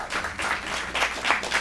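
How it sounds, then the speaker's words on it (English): An audience at an evening talk on gut health breaks into applause, a dense, even patter of many hands that swells in brief waves throughout, with no voices on top. "Can we give a round of applause for Dania"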